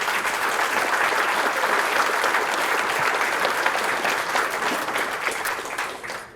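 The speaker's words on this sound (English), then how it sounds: "Please join me in offering a much-deserved round of applause to all of our wonderful community" A dinner-hall crowd at an annual Rotary sports awards dinner applauds the community coaches, sustained dense clapping at an even level that fades out at the end.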